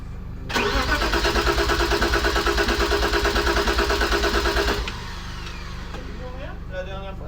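A turbocharged BMW E36 engine cranks and catches after a long struggle, roaring loud and steady with a rhythmic pulse for about four seconds before dropping to a quieter idle, with people talking faintly near the end.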